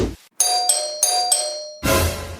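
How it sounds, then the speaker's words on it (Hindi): A cartoon doorbell chimes four times in quick succession, each tone bright and ringing, followed by a burst of louder noise. "डोरबेल क्यों बजाया?"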